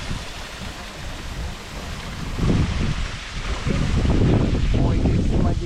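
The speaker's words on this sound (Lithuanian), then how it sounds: "Oi, kaip smagiai taško vanduo." Water splashing among rice terraces in Sapa, Vietnam, a rough broadband rush that swells louder in the second half, with bursts of nearby splashing and a voice speaking over it.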